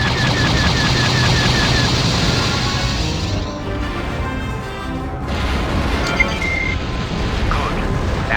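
A TIE fighter's laser cannons in the Star Wars: TIE Fighter space combat game, firing at a target container in a loud, dense, rapid stream that thins midway, then picks up again with scattered shots.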